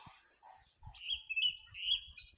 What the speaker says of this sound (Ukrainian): слухаю, як щось розспівалося десь тут в акаціях